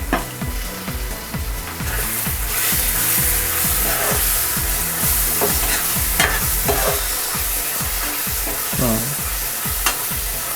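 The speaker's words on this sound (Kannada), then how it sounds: "ಇವಾಗ ಇದಕ್ಕೆ ನಾವು ಕ್ಯಾಪ್ಸಿಕಮ್ಮು ಹಾಕಿ ಚೆನ್ನಾಗಿ ತಿರುಗಿಸ್ತೀವಿ." Capsicum being stirred into paneer masala frying in oil in a pan, with steady loud sizzling and repeated scraping strokes of a spoon throughout, no talking.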